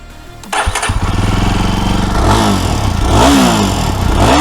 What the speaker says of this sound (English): And now let's look at the exhaust note.